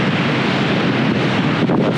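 Ocean waves rolling in on the coast of Lewis in the Outer Hebrides, heard as a steady, loud roar with heavy wind buffeting the microphone and no speech.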